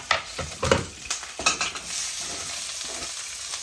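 Onions sizzle in a hot pan for chicken curry, broken by several sharp bursts of stirring and scraping, then settling into a steady hiss.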